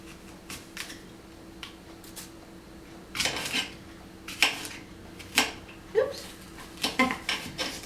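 Knife chopping an apple on a board for juicing with an Omega 8004 juicer, a run of sharp clacks that start sparse and quiet and grow louder and quicker toward the end.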